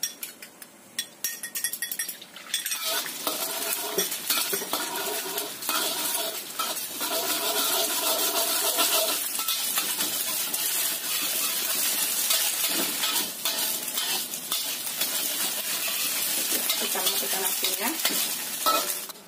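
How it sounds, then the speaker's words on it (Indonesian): Eggs fry and are scrambled in a little hot oil, with continuous loud sizzling and crackling under the scrape and clink of a stirring utensil against the pan. "Kita panaskan sedikit minyak. Ini kita goreng dulu telurnya. Kita bikin telur orak-arik."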